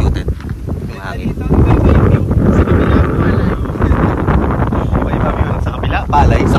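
Wind roars and buffets the microphone during a gravel bike ride through rice fields, a loud, steady rushing that rises and falls, with people talking over it.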